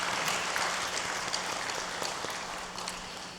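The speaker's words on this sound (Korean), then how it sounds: "찬양으로 수고해 주신 은평찬양단 격려의 박수 드리겠습니다." A church congregation applauding the praise team after worship, a soft, steady spread of clapping at a distance that slowly fades, with no voices over it.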